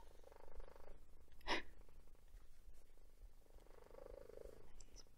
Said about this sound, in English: He's purring very loudly.